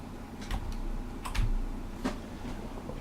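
Computer keyboard keys pressed in a few separate clicks, close and fairly soft, spaced irregularly with nobody talking.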